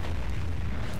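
An explosion in the video game Dust 514, heard as a short, dense, low rumbling blast that stays heavy and booming through its brief length.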